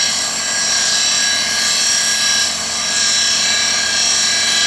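A surface grinder in a clockmaker's workshop, grinding new pallets for a Graham dead beat escapement, runs with a loud, steady high whine and whir that holds evenly throughout.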